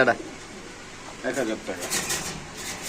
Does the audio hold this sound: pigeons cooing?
yes